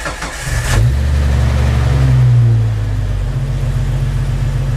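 A Jeep XJ with a slightly weak battery cranks briefly, catches, revs up loudly, then settles into a steady, close idle with no talking.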